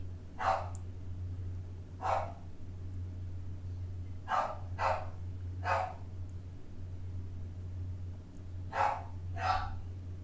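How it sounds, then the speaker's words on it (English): Indoor dog barking in short separate yaps, singles and quick pairs spread over several seconds, moderately near against a low steady hum with no talking. "You have to excuse the dog."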